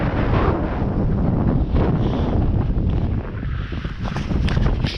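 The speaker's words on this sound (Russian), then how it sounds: "Ветер очень порывистый сегодня." Strong gusty wind blows across a field of stubble where kites are flown, roaring and buffeting a nearby microphone in heavy continuous rumbles with shifting surges.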